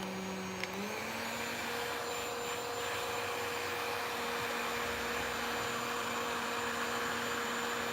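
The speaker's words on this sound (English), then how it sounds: "turn the old heat gun on." Heat gun blowing hot air in a knife workshop: a steady, even whooshing hum that switches on early and holds at constant level, moderately close, with no voices.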